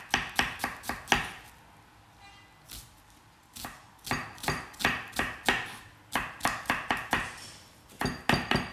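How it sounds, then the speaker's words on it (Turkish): Onions are minced finely with two knives on a board, producing rapid, sharp rhythmic chopping strikes in quick bursts with brief pauses, close and loud, with no talking. "soğanlarımızı iki bıçakla sevgili izleyiciler biraz daha ince ince doğrayacağız"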